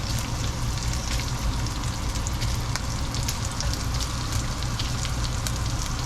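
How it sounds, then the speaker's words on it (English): Bacon sizzles and crackles steadily in a frying pan, a dense continuous hiss with scattered sharp pops, close and fairly loud. "Well, I got that bacon frying pretty well."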